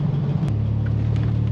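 A running 1981 DMC DeLorean hums along at a steady low engine drone, its pitch dropping slightly early on, then holding an even rumble close by with no voices.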